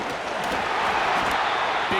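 A packed stadium crowd in Madden NFL 25 on its feet before a third down, a dense, steady roar of cheering that fills the whole moment without letup.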